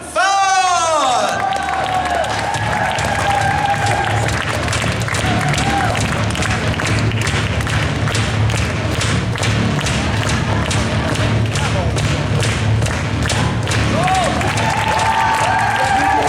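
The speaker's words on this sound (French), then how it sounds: "Faites du bruit pour Red Hood par Batfan." A large crowd at a costume contest applauds and cheers loudly and continuously, with rhythmic clapping, whoops, and an announcer's voice over the noise.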